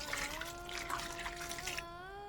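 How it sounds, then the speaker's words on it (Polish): A glass of water pours into a bowl of spicy Thai-style cucumbers, a close, steady trickle whose ringing tone slowly rises as the level climbs, then stops near the end. "Do tego dolewam szklankę wody."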